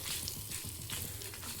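Chili powder sizzles briefly in hot oil as a tempering for sambar, a faint, steady crackle heard alone for a moment.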